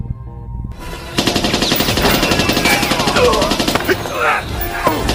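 Rapid automatic gunfire from a James Bond film scene at an oil-facility missile silo, with sustained machine-gun bursts, sharp cracks and ricochet-like noises filling the scene after a brief quieter start, loud and dense throughout.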